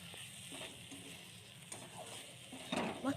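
Bottle gourd peel is stirred in a frying pan, giving a steady low sizzle of oil with occasional scraping and clinking of the spatula against the pan, close up, with no talking.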